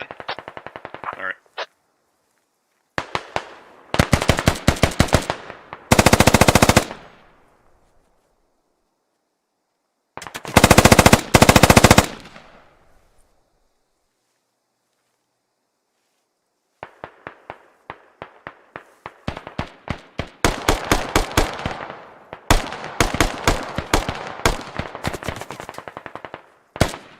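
Machine gun base fire in a military squad video game, rapid bursts of automatic gunfire in clusters separated by silent pauses, loud and close, some shots sharper and more distant.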